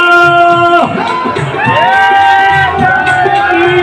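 A large crowd at an annual religious fair at a dera shouts a loud, sustained jaikara chant in unison, voices rising together close by.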